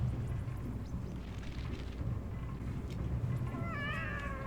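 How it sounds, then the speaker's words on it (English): Trapped cats meowing in the video game Animal Well, faint plaintive mews over a low rumbling ambient drone, with a clearer wavering meow rising near the end. "all those kitties I was hearing meowing"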